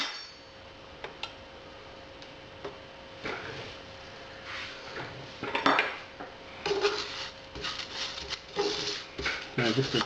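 Coconut goes into a dry pan, giving scattered clinks and knocks of metal cookware that turn busier and louder near the end, alongside a faint steady hum.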